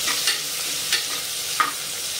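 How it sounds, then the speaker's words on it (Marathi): Onion and peanuts sautéing in oil in a pan, a steady close sizzle with a few scrapes of a spoon stirring at intervals, no talking. "कांदा शेंगदाणे छान 2 मिनिटं परतून घ्यायचंय तेलावर"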